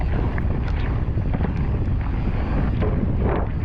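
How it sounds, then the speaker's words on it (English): Strong wind gusts across a hilltop bike-park trail during a mountain bike ride on a Cube Stereo. They roar as a loud, continuous buffeting rumble against the microphone, with no talk. "hopefully the wind should be a bit less gusting down at the bottom of the trail than it is at the top of the hill"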